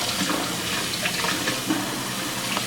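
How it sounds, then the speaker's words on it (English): Tap water runs steadily into a kitchen sink while vegetables such as cucumber, tomato, mushrooms, celery, carrots and lettuce are rinsed under it, a close, continuous hiss and splash with no voices. "When washing the vegetables, again, warm or cool water, and just rub them with your fingers vigorously."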